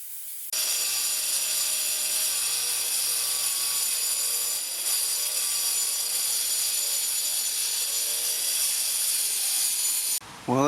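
A Makita 40V cordless dust extractor vacuum drones loudly and continuously while concrete is chopped nearby, a steady whine with faint tool scraping and rubbing beneath, ending in a brief clatter.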